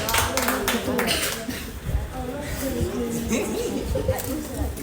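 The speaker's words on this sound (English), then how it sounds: "Give him a clap, please" A crowd at a softball association opening ceremony claps briefly, a light patter of applause mixed with voices and chatter that continue over it.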